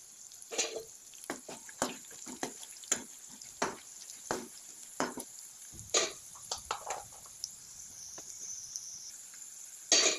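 Garlic frying in hot oil with a pinch of asafoetida for a drumstick-leaf pachadi gives a close, steady high sizzle broken by irregular sharp pops and crackles throughout.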